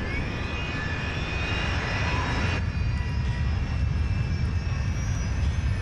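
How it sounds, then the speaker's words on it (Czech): A jet airliner's number four Rolls-Royce engine restarts in flight at 3,500 metres: a loud, steady roar fills the whole stretch, with high whining tones riding over the rumble, constant and close. "Burácení nabíhajícího motoru Rolls-Royce mi v tu chvíli znělo jako rajská hudba."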